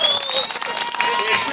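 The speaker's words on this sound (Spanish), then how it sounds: "Escuchen esas palmas del público de Huajuapan de León" Audience at a lucha libre anniversary show in Huajuapan de León claps, a dense, loud burst of applause blended with crowd noise, brief and continuous.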